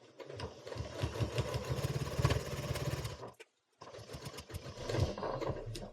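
A sewing machine stitches binding onto a quilt, whirring in a fast, steady run close by, stopping briefly for a moment of silence before starting up again.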